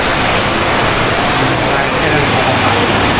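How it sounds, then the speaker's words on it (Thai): Loud, dense hiss of heavy nighttime rain pouring down in Mae Kampong, Thailand, steady and unbroken throughout, close and enveloping. "ถ้าฝนตกหนักขนาดนี้นะ"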